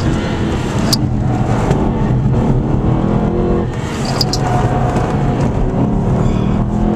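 Race car engine in the Shift 2 racing game on the Silverstone circuit, a loud continuous roar held at steady revs while the car slides through corners, with a couple of brief sharp tyre or skid accents.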